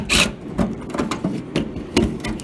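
A socket wrench with a 10 millimeter socket working bolts out on a 1997 Dodge, giving a series of sharp metallic clicks and ratcheting taps at an irregular pace, close up and fairly loud, with no talk.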